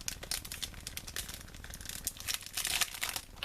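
A crinkly plastic package of printed tissue collage papers is pulled open, giving close, quiet rustling and crackling with a few sharper crinkles near the end.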